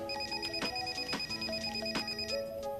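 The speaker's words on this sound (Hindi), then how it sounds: "अब फोन आ गए." A telephone rings in a scene from the medical drama House MD, a quiet, repeating electronic trill heard under a faint background hum.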